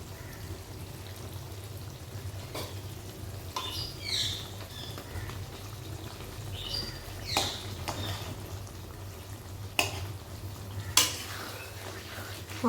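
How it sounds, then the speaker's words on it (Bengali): Fried potatoes stirred into mutton kosha in a pan, a low steady sizzle with intermittent scrapes and knocks of a utensil against the pan. "আলু দুটো দিয়েও কিন্তু খুব ভালো করে এইভাবে নেড়ে দেব।"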